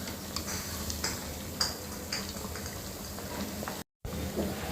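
Sabudana vadas, fasting snacks of sago pearls, frying in a pan of oil with one side browning, giving a steady soft bubbling sizzle, close and even, with no voices.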